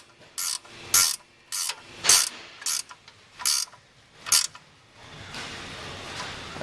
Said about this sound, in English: find my wrench here. There we go. We'll tighten that back up